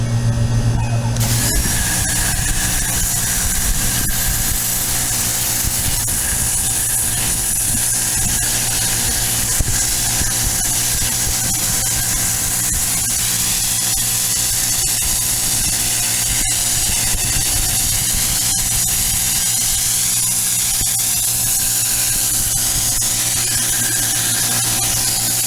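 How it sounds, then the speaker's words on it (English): A high-pressure washer rinses the interior of a used truck with a loud, continuous hiss and a whining pump drone. The spray runs unbroken for about 25 seconds, close to the microphone, with no talking. "I'm going to spray it down with high pressure rinse"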